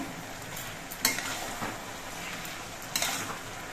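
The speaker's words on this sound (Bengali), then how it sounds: "লাউগুলো আবার নেড়ে চেড়ে নিচ্ছি" Pieces of bottle gourd are stirred in a pan with a quiet sizzle, as a spoon gives a few distinct scrapes and clinks against the metal.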